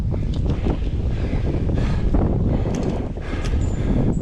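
Strong wind roars steadily across the microphone high up on a massive dead tree spar during a solo climb, with broad gusty rumble and buffeting throughout and no voices.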